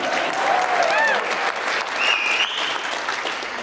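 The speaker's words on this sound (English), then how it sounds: "no, go ahead, we'll take the applause." A crowd claps steadily and loudly, with a few whoops and whistles rising over the applause before it tapers off.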